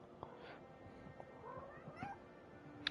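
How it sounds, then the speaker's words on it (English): A cat meows softly nearby, with a few drawn-out, faint vocal cries spread over a few seconds against a quiet room background. "Sorry if you hear that. It's our cat, Tonto."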